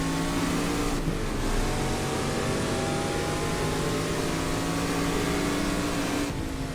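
A race car engine in GTLegends drones loud and steady close up, its pitch rising and falling with brief dips where gears shift near the start and end, no voices.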